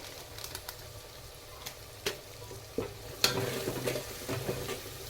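A masala mixture with homemade garam masala is stirred in a pan, giving soft scraping strokes and light sizzle, with a few sharper clinks of the spoon against the pan standing out midway.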